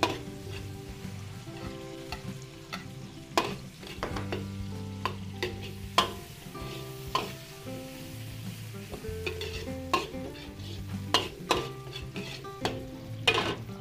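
Onion and garlic sauté in a hot pan with a steady sizzle, while a utensil scrapes and knocks against the metal at irregular intervals; close and fairly quiet, with no talking.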